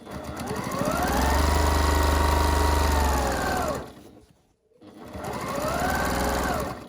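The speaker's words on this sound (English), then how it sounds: "I always stitch with my needle down." A sewing machine stitches fabric for a pumpkin-shaped storage pod, a loud close motor whir with rapid needle chatter running about four seconds, pausing briefly, then starting again.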